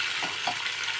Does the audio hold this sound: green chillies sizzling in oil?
yes